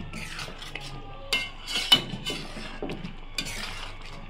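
Paneer butter masala stirred in a pan with a spoonful of butter over a raised gas flame, giving soft scraping and clinking of a spoon against metal in a few brief bursts, with a quiet background hiss.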